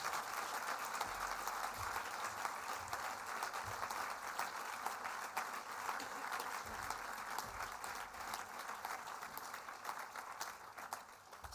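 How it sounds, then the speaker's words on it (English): Sustained applause from a school prize-giving audience, dense steady clapping filling the hall at an even level before tapering slightly at the end. "please everyone join me in another large round of applause"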